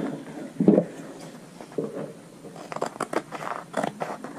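Scissors snipping through a faux leather sheet for a bow planner tassel, a few close crisp cuts in quick succession with short pauses, loudest early and then a rapid run of snips toward the end.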